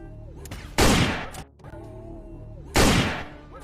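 A Bumblebee toy gun plays two loud, crackling bursts of rapid gunfire sound effects, each lasting about a second, separated by a quieter pause.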